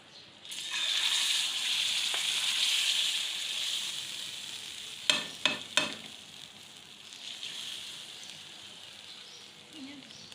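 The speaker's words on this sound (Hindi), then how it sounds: "ये भगार हमारा रेडी हो गया, ये मैं हलीम में डाल ली।" Hot bhagar tempering poured into a pot of degi haleem, a loud sizzle and hiss that swells then slowly fades, broken by a few sharp metallic spoon clinks near the middle.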